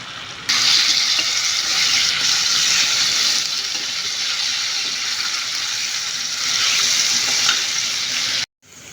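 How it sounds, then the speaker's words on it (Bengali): Steady sizzling of onions and potatoes frying in hot oil with salt, loud and continuous, stopping abruptly near the end. "এখন পেঁয়াজ এবং আলুগুলোকে লবণ আর তেলের সাথে একটু ভেজে নিচ্ছি"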